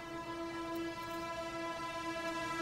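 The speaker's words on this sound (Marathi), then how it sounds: "ट्रेन पण आली तिकडून बोंबलं." A train horn sounds as one long steady blast, with the low rumble of a passing train underneath.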